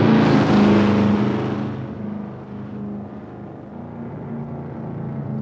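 A 1971 Dodge Demon with a 340 engine and twin four-barrel carburetors, running on new wheels and tires, roars loudly up close as it accelerates, then settles into a steadier, quieter cruising drone.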